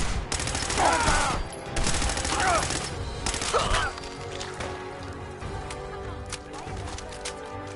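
Rapid gunfire bursts from a .38-caliber weapon in the video game Fallout 4, loud and dense for the first few seconds, then fading into scattered quieter shots and game ambience.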